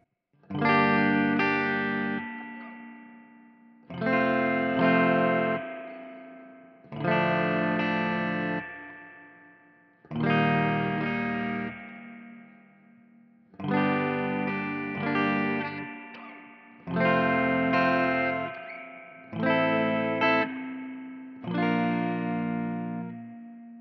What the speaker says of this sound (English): So it's not a very big, spacey sounding reverb.